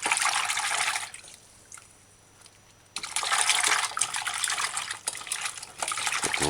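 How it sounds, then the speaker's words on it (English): Vegetables such as cauliflower florets washed under a running kitchen tap, a loud close gush of water that drops away for a couple of seconds, then returns splashing over the food. "clean your vegetables properly"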